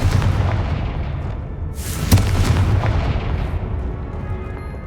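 A Confringo blasting spell in Hogwarts Legacy, cast while fighting spiders, goes off with a sharp crack and a fiery burst halfway through, set against a rumbling backdrop of combat noise.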